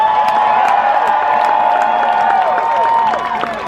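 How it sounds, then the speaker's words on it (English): Crowd at the National Trans Visibility March applauding and cheering, with dense continuous clapping, whoops and shouts near and loud throughout, fading abruptly at the end. "So give yourselves a round of applause"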